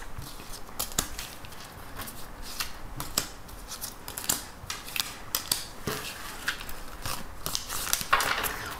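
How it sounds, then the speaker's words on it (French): Tarot deck being shuffled and cards drawn: a close, quiet run of crisp snaps, riffles and card slaps in an irregular rhythm, fairly faint throughout with no talking. "Donc, on va prendre 6 cartes."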